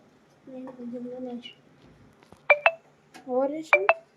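Pairs of sharp telephone dial tones sound twice, each a bright double beep, between stretches of voiced speech, with a short gap of near quiet in between.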